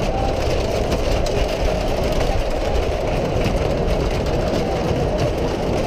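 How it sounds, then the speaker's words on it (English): An old roller coaster at Great Yarmouth Pleasure Beach rumbles along in a steady, loud, continuous roar, heard close from on board with no breaks and no talking. "for a really old coaster, it is quite smooth"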